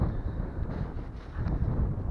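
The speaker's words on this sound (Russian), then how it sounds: "И ветер как будто меня послушался и зашумел еще больше." Steady wind roars and rushes across the microphone outdoors in Poland, a low continuous buffeting with gusts swelling and easing, no voices.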